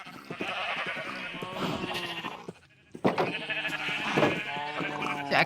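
Sheep in a farming video game bleat continuously, with several overlapping wavering cries, loud and close, and a short pause midway before the bleating resumes.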